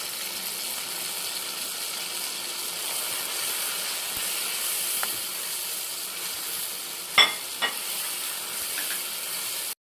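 Steady sizzling hiss of ginger, garlic, green chillies and spices frying in a hot pan with tomato paste, with a couple of brief stirring scrapes near the end.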